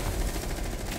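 Gunfire in Rainbow Six Siege, a dense burst of rapid shots packed into about a second, loud and close.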